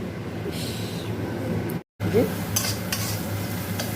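Onions sizzle and fry in a pan for Maggi noodles while being stirred, a steady close scraping hiss that cuts out briefly before resuming.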